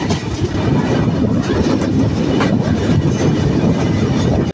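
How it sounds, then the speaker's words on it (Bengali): The Benapole Express running on rails as it enters Rajbari railway station, a loud, close, steady rumble of rolling carriages with rhythmic wheel clatter throughout and no talking. "এই রাজবাড়ী রেল স্টেশনে প্রবেশ করলো"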